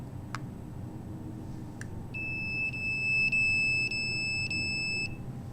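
A smoke detector in a building sounds a series of sharp, high electronic beeps, about six evenly spaced chirps over a few seconds against a low background hum, near and clear with no talking.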